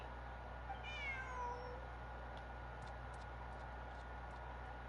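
A cat in the video game Genshin Impact gives a single short, rising-then-falling meow against a quiet low hum, followed by a few faint ticks.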